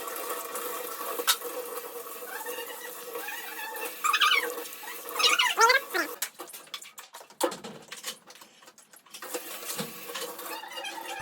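Running tap water splashes steadily while dishes clink and clatter, with bursts of scrubbing and rinsing, and faint background noise throughout.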